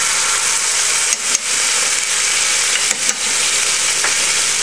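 Three cloves of minced garlic hiss and crackle in a hot pan alongside browned vegan fish, a loud, steady close-up sizzle broken twice by short scraping pauses from stirring.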